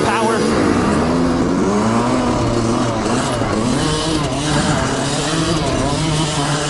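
A Yamaha YZ125 two-stroke dirt bike engine revs loud and close on a trail ride, its buzzing pitch rising and falling through throttle changes, with a rider's voice mixed in.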